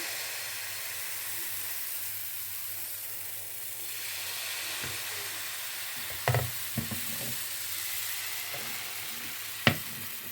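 A banana crêpe cooks in a buttered frying pan, giving a steady, close sizzle with a few brief clinks and scrapes and no talk.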